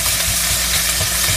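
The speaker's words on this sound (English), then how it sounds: "I'm cooking this pork chop that was already cooked in the oven" A pork chop, already cooked in the oven, fries in a pan, giving a steady dense sizzle with a low bubbling rumble underneath, close and continuous, no talking.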